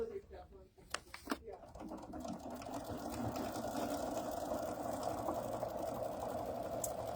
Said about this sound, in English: this is going to take a few minutes to sew out